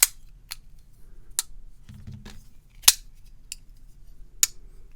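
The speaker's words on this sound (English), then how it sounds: "Get more of a thud with this one, a higher pitch sound with the liner lock" A titanium liner lock folding knife with nested titanium liners and a backspacer snaps shut repeatedly, giving about six sharp, bright metallic clicks spaced across a quiet background.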